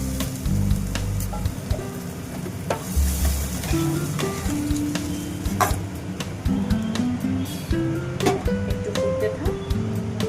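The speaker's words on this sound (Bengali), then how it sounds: "এবার আমি জল দিয়ে দেবো পরিমাণ মতো" Water poured into hot oil and cooked spices for a thin Bengali fish curry with potato, brinjal and lentil dumplings, giving a continuous close sizzle and bubbling hiss with scattered clinks over faint background music, no speech.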